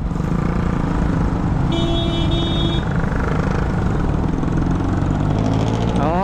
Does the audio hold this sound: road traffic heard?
yes